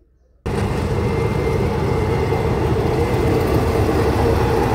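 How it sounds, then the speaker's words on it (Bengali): A train passes on a railway line beside a school, starting abruptly after a moment of silence and then holding a loud, steady rumble of rolling wagons close by. "আর এখন ট্রেনও আসছে, দেখুন"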